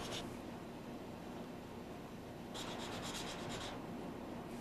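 Sandpaper wrapped on a wooden dowel rubs back and forth over a woodworking gouge, a quiet, close, continuous scratchy sanding with a couple of brisker strokes partway through.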